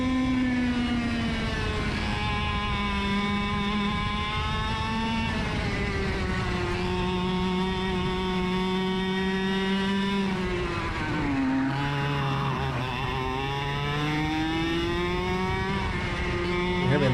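Racing kart engine at sustained high revs with smooth pitch swings, dipping sharply and recovering around a corner where the driver makes a mistake; loud, close and continuous throughout.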